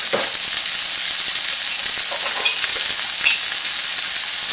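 A homemade hamburger patty sizzles steadily in a pan, a loud, continuous hiss and crackle of frying fat with occasional small pops and no talking.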